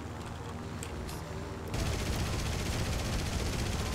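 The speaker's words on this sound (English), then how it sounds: "It looks like they got small caliber guns on me" Small caliber guns rattle in the War Thunder plane game, a dense stream of rapid shots that grows louder midway under steady engine drone, with no talk.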